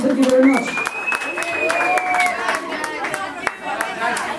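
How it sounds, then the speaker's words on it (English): Wedding guests applaud and cheer after a toast to the new couple, a lively mix of clapping and crowd voices, with whoops and chatter rising over the steady claps. "if I could have a big applause and cheers"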